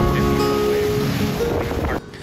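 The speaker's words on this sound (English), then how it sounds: "Just watch how gnarly these waves are." Heavy surf rolls and crashes at Sandy Beach on Oahu, Hawaii, a dense continuous roar of waves and wind buffeting the microphone, loud and close, cutting off abruptly near the end.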